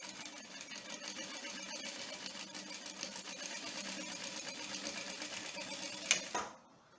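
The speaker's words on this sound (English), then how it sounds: "I'm going to show you next how to pedal your machine slightly so it doesn't speed too much" An industrial sewing machine runs continuously at pedal-controlled speed, a close, rapid mechanical chatter that holds steady for several seconds, then stops abruptly with a final clack.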